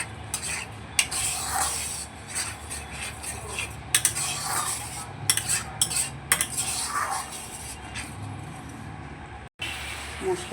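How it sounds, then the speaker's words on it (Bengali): Spices and chili powder sautéing in a pan, dominated by repeated scraping and clinking of a metal spoon against the pan over a low sizzle, with brief pauses between strokes. "মশলাগুলোকে ভালো করে একটু কষিয়ে নেব।"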